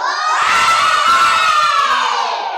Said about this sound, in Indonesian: Ayo teriak hore